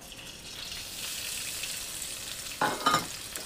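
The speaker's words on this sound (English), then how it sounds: "I'm going to brown the lard," Lard browning in a pan over a small fire, giving a soft, steady sizzle that swells into a couple of louder spattering bursts near the end.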